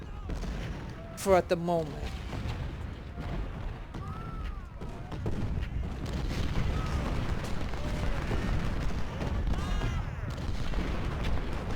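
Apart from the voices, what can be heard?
snipers firing in the video game Ultimate General Civil War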